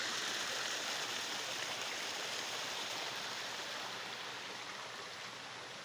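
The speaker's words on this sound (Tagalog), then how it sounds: "Sapa. Sapa. Ang lakas ng agos, no?" A strong stream current rushes past close by, a dense, steady hiss and roar of flowing water that stays loud and unbroken throughout.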